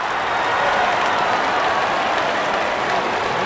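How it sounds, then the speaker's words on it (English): Stadium crowd in the Cricket 24 video game during an India versus Pakistan match, a steady, dense wash of applause and cheering that holds at an even loudness throughout, with no talk. "there comes the celebration and the crowd loves it"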